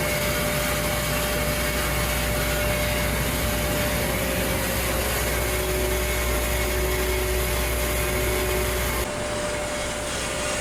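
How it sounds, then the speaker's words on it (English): A steam turbine-driven feed water pump idles at about 1,300 RPM, giving a steady, loud mechanical whine and hum with a constant tonal drone that drops off abruptly near the end. "Next to it is something a little more unusual, a steam turbine-driven feed water pump."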